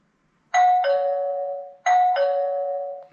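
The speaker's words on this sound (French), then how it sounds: "vous pouvez la mettre aussi en sonnette, un petit bruit de sonnette." An Aqara Camera Hub G3 plays its doorbell chime twice, each a bright two-tone ding-dong ringing out clearly with a short decay, close and loud in a quiet room.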